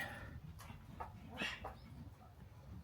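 A small dog heading outside past a garage where an oil change on a high-mileage Hemi engine is under way; faint, brief rustles and light clicks sit over a steady low background hum.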